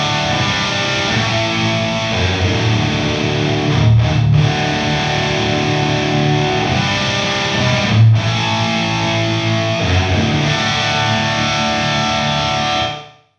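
A guitar played through the hall reverb setting of a Two Notes Captor X, with a loud, dense distorted tone. Sustained chords ring out and wash into a long reverberant tail, then cut off at the end.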